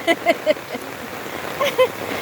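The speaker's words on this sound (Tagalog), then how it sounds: "Galing sa taas, papunta sa baba ang tubig." Strong floodwater rushing downhill through a heavy rainstorm makes a steady, close broadband wash, with brief voices and chirpy tones poking through on top.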